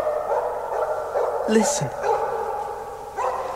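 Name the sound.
dog barking, radio drama sound effect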